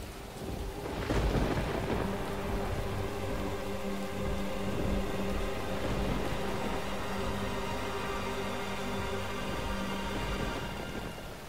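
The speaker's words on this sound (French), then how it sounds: "Il y a beaucoup de pluie." Heavy rain pours steadily with a loud thunderclap early on and rumbling thunder rolling beneath the constant hiss, no voices present.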